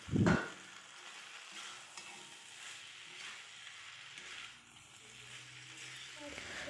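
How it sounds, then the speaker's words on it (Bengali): Vegetables and paneer stir-fried in a pan, a low continuous sizzle with soft stirring scrapes, opening with a brief louder knock, fairly faint and close. "সবজিগুলি দিয়ে আরও কিছুক্ষণ নাড়াচাড়া করে ভেজে নেব"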